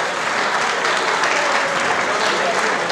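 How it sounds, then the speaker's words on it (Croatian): Sustained audience applause at a first Mass celebration in Brinje, Croatia, a dense steady clapping from a large crowd that fills the whole stretch without any talk. "Malo jači aplauz"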